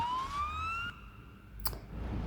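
An ambulance siren in the Ambulance Life paramedic simulator game switches on with a rising electronic wail that cuts off abruptly, followed by a click and faint low rumble.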